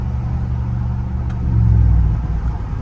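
Engine and exhaust of a Dodge Ram truck drone as it drives, heard as a close, low rumble with a brief swell in the middle and no talking.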